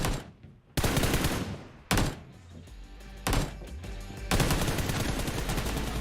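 Gunfire from the mobile battle-royale game PUBG Mobile: a handful of loud, sharp shots and short automatic bursts separated by brief gaps, with reverberant tails and a low rumble underneath.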